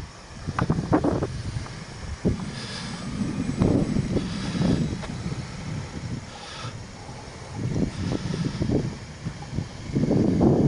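An Apprentice RC model airplane flies near a lake in strong wind, its small engine droning and swelling as it passes, with gusty wind noise rumbling over the microphone throughout.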